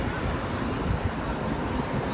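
Steady, loud Las Vegas wind buffeting the microphone with a continuous low rumble and no speech.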